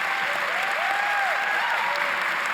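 Steady audience applause after a friendly exchange at an on-stage art discussion, filling the space evenly and continuously, with some whistling or cheering tones rising faintly above the clapping.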